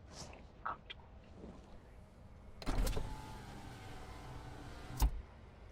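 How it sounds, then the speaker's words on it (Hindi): A car's power window whirs steadily downward for about two seconds, close inside the cabin, ending in a soft thump, after quiet rustling at the start. "अबे कांच खोल।"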